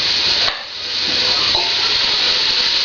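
Onions sauté in a pot for chili, giving a steady close sizzling hiss with a short dip where they are stirred, no talking over it.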